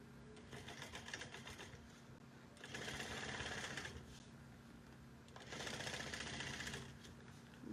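Sewing machine stitching the lining of a bucket bag at a long stitch length, running in two sustained bursts with brief quieter pauses between, close and fairly faint.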